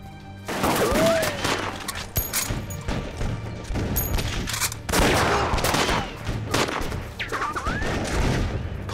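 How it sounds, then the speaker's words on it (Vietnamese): Gunfire rattles through a Vietnamese action film battle in repeated bursts of shots and booms, close and loud, with swooshing effects between volleys. "Kỹ thuật bắn súng của Trịnh Mặt Dỗ tốt như vậy sao"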